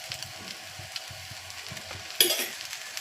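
Oil sizzles and crackles steadily in a pan as pathrode roasts, a soft close frying hiss with a brief louder flare of spatter near the end, no voices.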